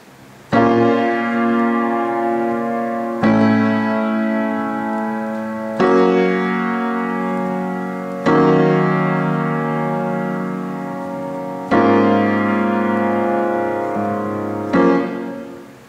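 Solo piano plays a repeating chord loop from a song, five sustained chords struck at a steady slow pace, each ringing out and fading before the next, close and clear with no voices.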